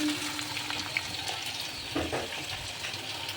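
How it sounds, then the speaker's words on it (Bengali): Mixed vegetables with broccoli and beet fry together in a pan, giving a steady close sizzle with occasional stirring scrapes throughout. "আর বিট, আর এর মধ্যে দিয়ে দেবো ব্রোকলি। এইগুলো সব একসাথে ভাজা হবে।"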